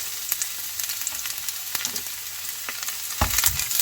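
Onion and garlic sauté in a pan with a continuous soft sizzle and hiss, broken by occasional sharp crackles and a brief stir near the end.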